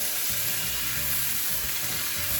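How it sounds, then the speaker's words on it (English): Prosciutto searing in a hot pan, a steady, moderately quiet sizzle with light stirring or shifting sounds, no speech. "And quickly sear it on both sides."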